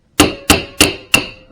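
A hammer whacks an impact screwdriver to free a tight oil pump: four sharp, close metallic strikes, evenly spaced about a third of a second apart, each ringing briefly before the next. No voices.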